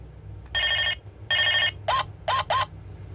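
A battery-operated toy telephone rings in short electronic bursts: two longer rings, then three quick chirps, over faint background hum.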